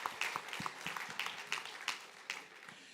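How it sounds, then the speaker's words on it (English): Audience clapping at a conference on sustainable Shariah investing, a modest, scattered patter of separate claps that is uneven and fairly quiet, with individual hand strikes standing out rather than a dense roar. "Please give ourselves a clap."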